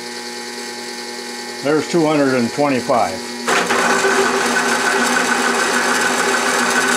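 A DC motor driven drill is cranked up to about 200, its steady mechanical whine and gear ratchet briefly broken by a short voice, then resuming loud and continuous at the higher speed.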